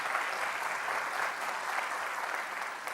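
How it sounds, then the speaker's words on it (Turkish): Studio audience applause on the Turkish game show Who Wants to Be a Millionaire, a dense steady clatter of many hands clapping together for a few seconds, fairly loud and even throughout. "bir moral alkışı vermeyelim mi sevgili seyirciler?"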